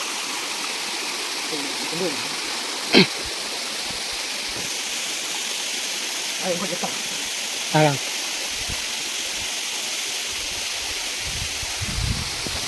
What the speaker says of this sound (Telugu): 360 రోజులు వాటర్ ఫాల్స్ వస్తూనే ఉంటాయి. కాకపోతే ఈ వర్షాకాలం కాబట్టి కొద్దిగా హెవీ ఉన్నాయి